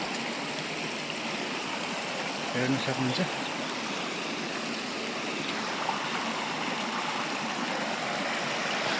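Water rushing steadily from a dam on the Khardu Khola river in Nepal, a constant broad roar with a short spoken remark partway through.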